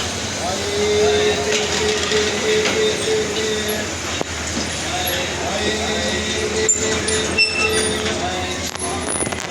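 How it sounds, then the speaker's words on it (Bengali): A train pulls into a station, a steady loud rolling rumble of wheels on track with faint squeals and clicks, continuous throughout with platform bustle underneath. "সুন্দর এখন ট্রেন আসলো, সবাই এখন ট্রেনে উঠবে।"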